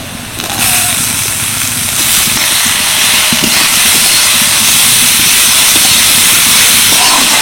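Grated carrot, potato and green chili hit a hot pan with lightly fried onion for kachori filling, setting off a loud, steady sizzling hiss that holds evenly throughout, with faint clatter underneath.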